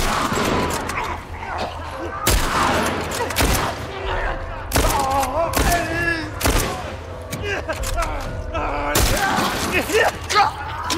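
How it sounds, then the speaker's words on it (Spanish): Rapid bursts of rifle gunfire in The Last of Us crack out repeatedly, mixed with booms and thuds, while voices talk over the action. "Entre un disparo y otro tarda demasiado"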